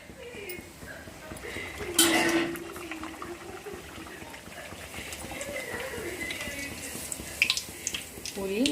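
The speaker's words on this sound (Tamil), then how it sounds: "இப்போ நம்ம திரட்டி எடுத்து வந்த பூரியை போட்டு பொரிச்சு எடுத்துக்கலாம்" A rolled puri drops into hot oil in a home kitchen and fries with a continuous bubbling, hissing sizzle that swells and fades, close and fairly loud, with a few clinks of a utensil near the end.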